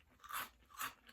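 Two crisp crunches sound as someone bites and chews a ring-shaped grilled protein pretzel, close to the mic and quiet, with nothing else heard.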